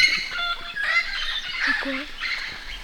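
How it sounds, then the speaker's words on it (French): Several jungle birds chirp and call in quick overlapping phrases, fairly close, with short whistled notes and clucking sounds against a quiet background. "C'est des oiseaux."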